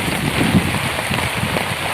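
Heavy rain pours steadily over flooded fields in Zarola village near Borsad, a dense, even hiss of water with no pauses.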